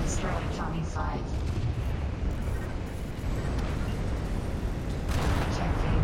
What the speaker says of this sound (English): I got hit by a fat missile.